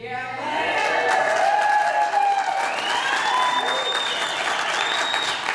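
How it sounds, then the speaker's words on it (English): Crowd applause at a city public meeting, a steady sustained clapping with some cheering mixed in. "If you could please hold your applause."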